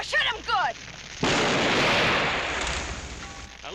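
A single loud cannon blast booms and rumbles away, after brief shouting voices.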